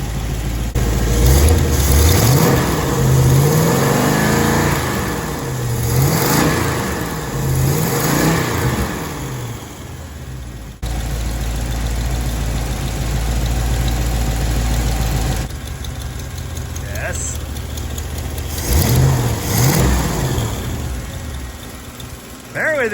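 A Mopar 440 six-barrel V8 runs rough and loud up close, blipping through several hard revs and dropping back to a lumpy idle, on fuel left in the line.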